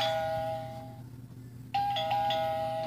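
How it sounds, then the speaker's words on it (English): A doorbell rings twice inside a plush-toy game scene: a clear electronic ding-dong tone at the start, a short quiet gap, then a second louder ring, with no voices. "Luckily, there's a doorbell."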